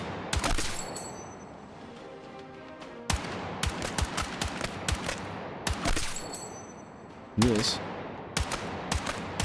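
Video game gunfire cracks out in sharp separate shots and short bursts with metallic ringing, spread across the clip, while someone talks over some of it.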